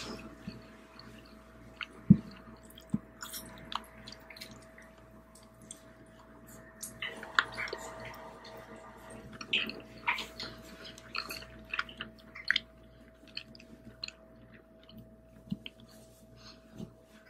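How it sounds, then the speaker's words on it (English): Close, wet chewing of Panda Express takeout, with soft squishy bites and slurps coming in irregular bursts over a quiet background. "the chewing's gonna sound in this video. Like trying to slurp these guys up."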